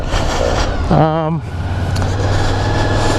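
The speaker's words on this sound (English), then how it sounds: "I am riding it on my 1998 VFR800." A 1998 Honda VFR800 motorcycle engine running at a steady, loud drone while being ridden on a mountain pass road, with a voice talking over it.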